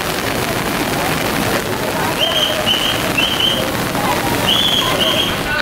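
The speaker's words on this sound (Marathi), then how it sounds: "एकदम जोरात पाऊस चालू आहे." Heavy rain pours at Tamhini Ghat as a loud, steady, dense hiss that fills the whole stretch without pause, with a few faint higher tones surfacing briefly in the middle and near the end.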